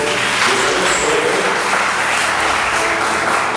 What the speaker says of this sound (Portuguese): Vamos aplaudir a Jesus por isso.